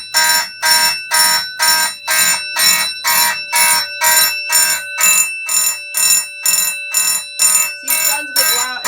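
Fire alarm panel devices sounding in march time: a loud, steady train of rapid, evenly pulsed electronic horn tones, about two per second, with a faint voice starting near the end.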